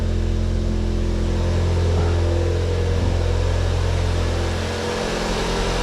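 A Volkswagen Golf R engine runs steadily just after starting, a loud, continuous low idle hum with a constant drone and slight wavering near its end, heard alone without voices.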